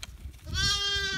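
A Dorper lamb on a small sheep farm lets out one close, drawn-out bleat after a moment of low background noise.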